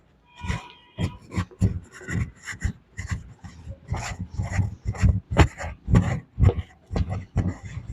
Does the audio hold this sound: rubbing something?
yes